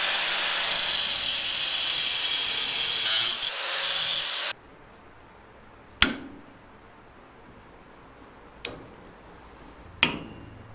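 A saw cuts through a Model A roadster top iron, a rough steady rasping for about four seconds that stops abruptly, then three sharp isolated knocks or taps follow in quieter surroundings.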